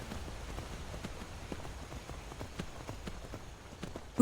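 Hooves of a blocky, pixel-style horse clip-clop steadily in a video game, a faint repeating clatter under a soft ambient background with no talking.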